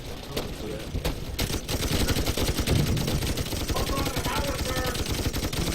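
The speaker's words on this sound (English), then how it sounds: "Control the machine gun, shoot that mortar that's at it." Rapid machine gun fire from the video game Toy Soldiers, a dense continuous rattle of shots running throughout with some speech mixed in.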